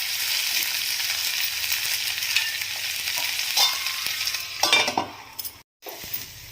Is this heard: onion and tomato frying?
yes